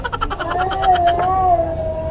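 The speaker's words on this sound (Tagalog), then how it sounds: "Ayun na naman yung pusa." A cat meows in a long, drawn-out wavering cry, close and fairly loud, with no talking over it.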